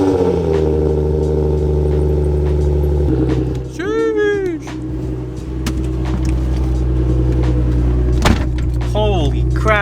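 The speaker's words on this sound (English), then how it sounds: "Give you guys the cold start, even though it's 9 degrees outside." A car engine cold-starts on a 9-degree morning, settling into a loud, steady idle rumble that runs throughout, with a brief dip and a few sharp mechanical clicks and squeaks partway through.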